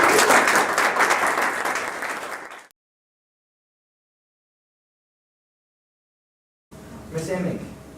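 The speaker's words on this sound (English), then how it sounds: "Sure, round of applause." Audience applauding after a final presentation: loud, dense clapping for a couple of seconds that fades out, then silence, followed by a voice starting to speak.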